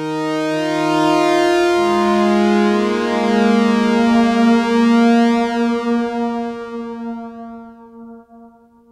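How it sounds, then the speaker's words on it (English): Sustained synthesizer tones pass through an Ibanez ES2 Echo Shifter with clean sine-wave modulation, giving a smooth, wavering pitch. The tone is loud and alone, bright harmonics swelling and then thinning into echoing repeats that fade out. "The modulation is a clean sine wave, and the depth range goes from undetectable to drunk"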